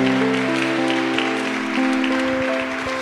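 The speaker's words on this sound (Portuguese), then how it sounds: "Vamos aplaudir a palavra de Deus" A church congregation applauds, with steady clapping running under sustained organ-like music chords for the whole stretch, fairly loud and even.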